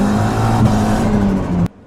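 A turbocharged car engine built on a budget holds a loud, steady drone with a sustained low hum, then cuts off abruptly near the end, with no voices.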